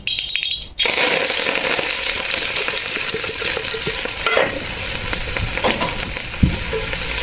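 Onion and green chili dropped into hot oil with mustard seeds and cumin while making Maggi, a loud close sizzle that bursts in after a brief quiet start, with scraping stirs and a small clink later, no voices.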